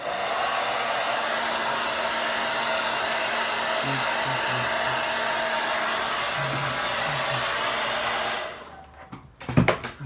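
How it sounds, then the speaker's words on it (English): A hair dryer blows steadily while hair is dried, a loud continuous whooshing drone held for about eight seconds before switching off, followed by a few faint knocks and handling sounds. "I never have the patience to blow dry my hair till it's perfect."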